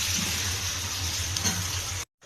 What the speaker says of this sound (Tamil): எண்ணெய் பெட்டை கிராம்பு வெங்காயமெல்லாம் வதங்குதா